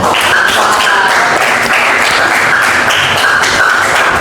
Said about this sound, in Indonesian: Kasih dulu tepuk tangan untuk Nadia.